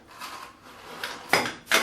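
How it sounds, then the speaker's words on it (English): Plastic buckle on the internal waist belt of a FlowPod battery pack being fastened: a few soft rubbing slides end in two sharp close clicks, with no voice. "fastening the buckle"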